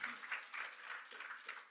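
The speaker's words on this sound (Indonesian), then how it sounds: "Tepuk tangan kalau amin." A short burst of congregation applause at an Indonesian church service, lively clapping that rises and falls in quick waves, close and moderately loud.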